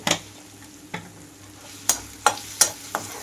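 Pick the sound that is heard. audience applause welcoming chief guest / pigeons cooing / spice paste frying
spice paste frying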